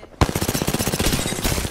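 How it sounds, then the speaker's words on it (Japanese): Rapid automatic gunfire in Apex Legends starts abruptly and hammers on in a fast, even string of loud close shots. "安全な位置から撃ちましょう。"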